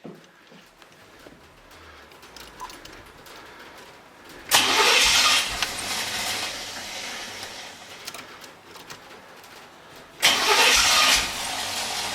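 A 1989 Trans Am V8 cranks after a fuel pump replacement, a steady rhythmic starter churn broken by two loud surges where the engine catches briefly and sputters, running rough on stale gas.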